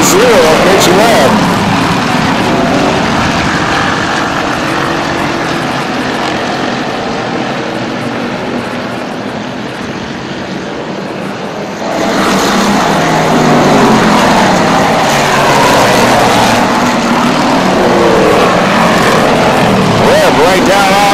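Race cars roar around an oval racetrack in a loud, continuous engine drone that swells again as the pack passes close, with a race commentator talking over it throughout.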